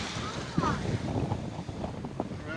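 Steady wind buffets the microphone at sea at night, with water sloshing and churning against a catamaran underneath.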